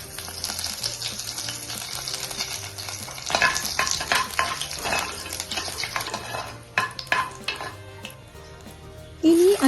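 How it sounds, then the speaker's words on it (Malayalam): Curry leaves and chillies crackle and sizzle in hot coconut oil with popping mustard seeds, with steady frying hiss, bursts of spatter and occasional clinks of a spoon against the pan over soft background music. "കടുക് പൊട്ടിയതിനു ശേഷം കറിവേപ്പിലയും മുളകും ചേർത്ത് കൊടുക്കാം."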